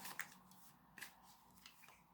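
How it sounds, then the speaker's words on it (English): Tarot cards are shuffled by hand close by, soft papery riffles and flicks in a few short bursts over a quiet background. "Let me have a fiddle with the cards here. What is different this time as we shuffle?"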